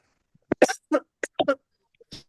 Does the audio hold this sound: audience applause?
no